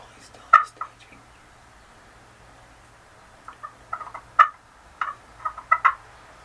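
A wild turkey gobbler calls in Wisconsin spring woods, faint scattered gobbles and clucks at a distance, with soft whispering nearby in a hunting blind.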